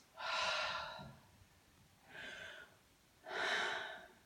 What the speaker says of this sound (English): I'm going to have the patient take a deep breath for me